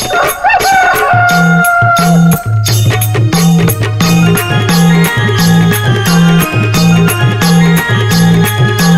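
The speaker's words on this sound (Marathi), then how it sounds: "कोंबड्यान बांग दिली" A rooster crows loudly near the start of a Marathi devotional naman song, its rising, wavering call ringing out before steady rhythmic drumming and music carry on without pause.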